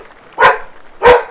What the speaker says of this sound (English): It's my dog, he just wants to be amongst it.